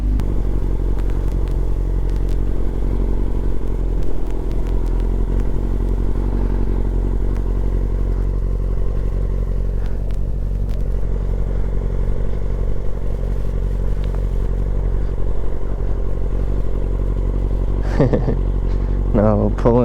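Motorcycle ridden and brought to a stop, a loud, steady engine drone close by that holds throughout and then settles, with voices briefly near the end.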